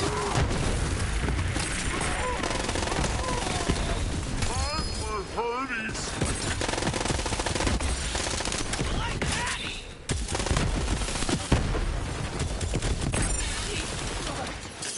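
Rapid gunfire in Borderlands 3 on Pandora, dense continuous bursts and booms layered with music and game effects, loud and busy throughout, with a voice talking over parts of it.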